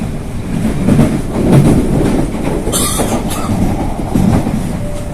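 A Chinese-made commuter train rolls toward Bogor, its interior filled with loud, steady wheel rumble and rhythmic clickety-clack, with a brief high squeal of wheels on rail partway through.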